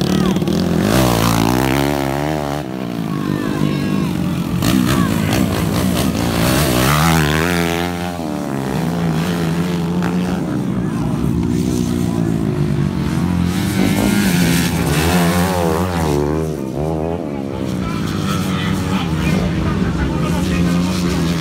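Small-displacement motorcycles rev hard and repeatedly during a beginners' race, the engine notes rising and falling in waves, loud and close throughout, with no one talking.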